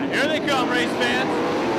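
410 sprint cars roar through a race at 34 Raceway in Burlington, a loud sustained engine blare with rising and falling whines as they pass, an announcer talking over the noise.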